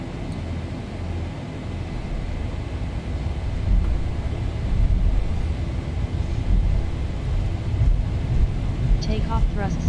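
Airliner engines in the Zibo mod flight simulator spool up to takeoff thrust. The low, droning roar builds steadily and fills the whole stretch, with a brief voice near the end.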